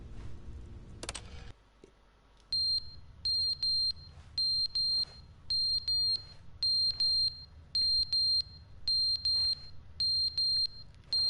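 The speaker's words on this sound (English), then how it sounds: "There's a fire alarm going off." A fire alarm in The Stanley Parable beeps insistently in a repeating pattern of sharp, high electronic pulses in pairs, continuing steadily over a low room hum.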